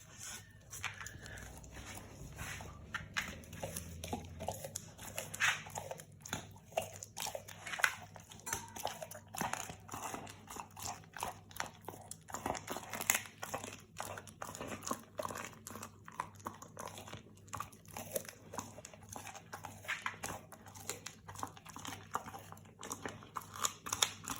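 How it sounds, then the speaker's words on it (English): An English Springer Spaniel chews a partly frozen raw chicken back, giving close, continuous wet crunching and gnawing with irregular crackling bites over a low, steady background hum. "The chicken back that she's left is still a little bit frozen, but that will take a little bit more chewing than the chicken wing."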